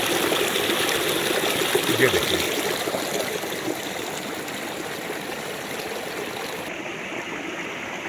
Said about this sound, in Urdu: آپ اس آبشار کی آواز کو سنتے رہیں